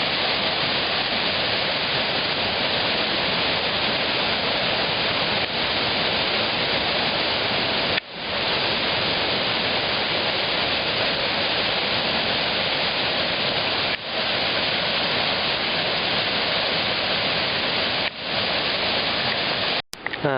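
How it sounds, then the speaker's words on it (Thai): Water from a small waterfall on the trail to Thi Lo Su rushes steadily and loudly, a constant close roar with no voices. "นี่ก็จะเป็นน้ำตก ย่อย ๆ ของทีลาซูนะครับ"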